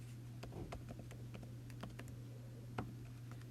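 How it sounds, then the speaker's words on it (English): Keys on a computer keyboard tapped in an irregular run of light clicks, quiet and close, over a low steady electrical hum with no talking. "once I click inside that box, I can type into it"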